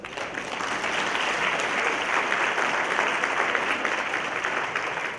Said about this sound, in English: Give them all a big round of applause, please.